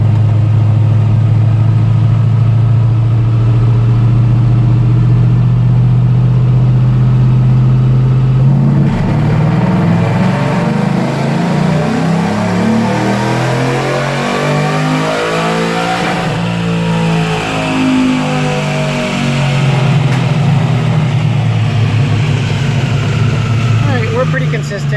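A Cobra Jet F150 pickup runs in third gear on dyno rollers, loud and close: a steady low drone that breaks into climbing revs with sweeping, rising engine and roller whine over a long pull.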